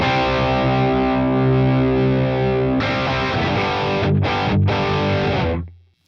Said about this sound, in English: Alright, and this is going to be an overdrive sound.